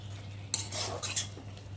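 Fish curry stirred in a pan over lowered heat, with a few close metallic spoon scrapes and clinks against the pan and a faint simmer beneath.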